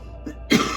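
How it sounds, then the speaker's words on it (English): A single sharp tickle cough bursts out close by, preceded by a soft throaty sound, over a low steady hum. "There goes the tickle cough again."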